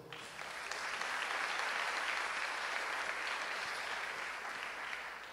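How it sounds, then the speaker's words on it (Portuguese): A church congregation claps together in sustained, dense applause that swells quickly and holds steady before easing off. "Aplauda ao Senhor."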